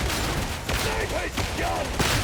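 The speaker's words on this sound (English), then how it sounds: "Sniper's gun." Sniper rifle fire in the Darktide video game, a few sharp cracks standing out over a dense, noisy combat background, with a voice talking underneath.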